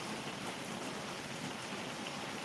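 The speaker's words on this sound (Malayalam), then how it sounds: "സാവകാശം നിന്ന് പെയ്യുന്ന മഴ സൂപ്പർ മഴ" Steady summer rain falling as an even, continuous hiss, fairly soft and unbroken throughout, with no voices.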